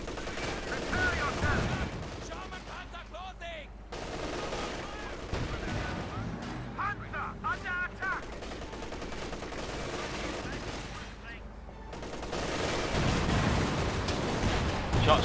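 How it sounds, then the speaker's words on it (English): An M1 57mm anti-tank gun firing on a Panther tank amid a Company of Heroes 2 battle, sharp repeated cannon reports mixed with rattling gunfire and rumbling combat noise, under an intermittent commentating voice. "Shots fired, bounce though, needs armor-piercing rounds, Talisman."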